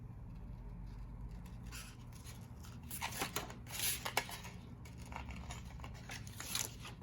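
Scissors cut out paper shapes during an art class, soft snips and paper rustle that are faint at first and then come in a few closer, sharper cuts against quiet room noise.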